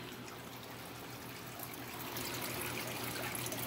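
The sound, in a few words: water trickling from waterfall in fish tank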